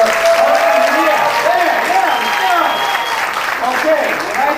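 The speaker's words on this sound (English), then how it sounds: "can I get a round of applause" An audience at a startup bootcamp event in Dhaka claps in a dense, sustained round of applause, loud and close, with a voice heard over it.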